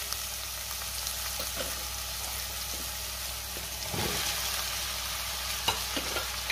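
Potatoes with red chilli powder and garam masala sizzle steadily in a pan, with occasional spoon scrapes and stirs over the constant frying hiss, close by and without talk.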